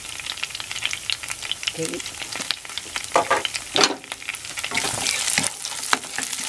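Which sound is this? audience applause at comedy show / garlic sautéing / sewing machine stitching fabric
garlic sautéing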